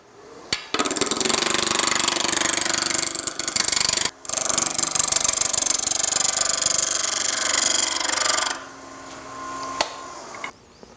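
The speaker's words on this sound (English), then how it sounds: "We can do the whole job with a roughing out gouge." A wood lathe turns a three-legged stool stretcher while a roughing gouge cuts it, making a loud, steady scraping whir for about eight seconds with a brief break, then quieter spinning. No one talks.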